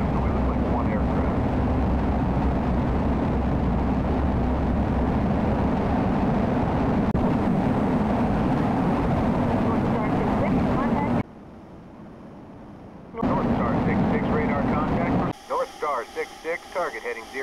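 A jet in Microsoft Flight Simulator X spools up and rolls for takeoff from runway 4, a loud, steady engine roar that cuts out briefly and then returns with cockpit tones near the end.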